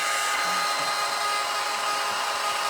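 A hair dryer blows steadily and loudly over a pumpkin grapevine wreath, a continuous broadband whoosh with no break and no voices.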